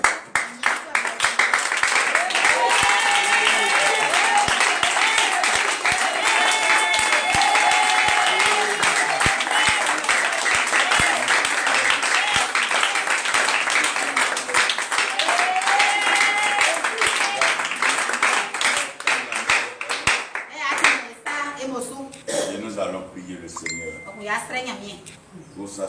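A standing church congregation applauding and acclaiming the Lord, loud sustained clapping with shouts and cheers from the crowd that fades to scattered claps near the end, with voices calling out over it.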